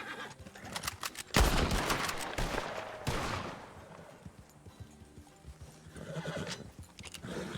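Horse hooves clip-clop and a horse neighs in Red Dead Redemption WildRP, with a loud burst around the second mark, busy game ambience and faint bird calls behind.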